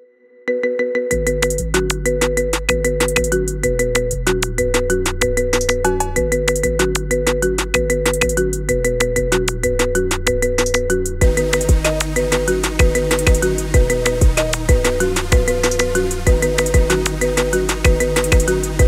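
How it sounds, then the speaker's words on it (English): A marimba remix of a song plays as a phone ringtone, bright mallet notes over a steady pounding bass beat, loud and continuous throughout. "Get this cool ringtone for your phone now."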